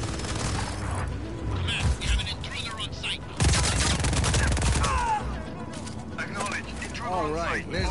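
Enemy turret gunfire rattles in Just Cause 4, steady rapid shots mixed with impacts, booms and mechanical clatter, with voices talking over the shooting.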